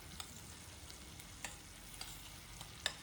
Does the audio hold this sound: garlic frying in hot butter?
yes